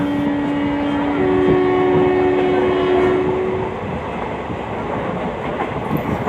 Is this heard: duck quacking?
no